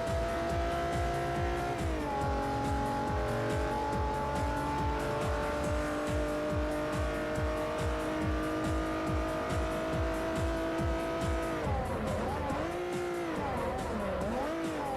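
Honda NSX race car in Forza Motorsport 4, a loud, sustained high-revving engine note with rising and falling pitch through gear shifts, tires squealing near the end, no talking.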